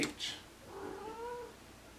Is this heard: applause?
no